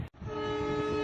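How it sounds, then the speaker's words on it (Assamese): A train horn sounds in a long, steady blast with strong harmonic tones, loud and close, after a brief gap at the start, with no talk over it. "গাড়ীখনৰ হৰণটো দিছে মানে ট্ৰেইনৰ"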